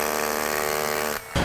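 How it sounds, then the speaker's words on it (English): A hammer drill bores pilot holes to lay out brackets for a Renaissance Aria patio roof, giving a steady, loud, close whine that runs unbroken for over a second, drops out briefly, then resumes. "he's drilling pilot holes to get the layout of the bracket"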